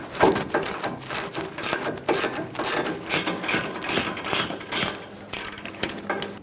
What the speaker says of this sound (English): Use a 21mm socket and loosen up this mounting nut.